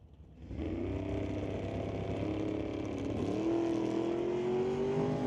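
Drag racing cars launch down a quarter-mile strip at a bracket race, one a Pontiac, engines roaring loud and steady before a rising high-pitched wail as they accelerate away.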